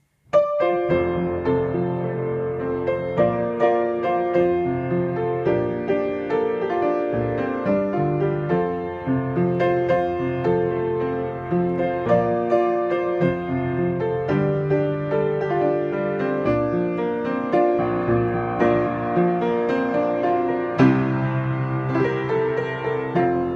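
Piano plays the full, flowing chorus of a song with rich chords and melody, steady and continuous for the whole stretch, no voices.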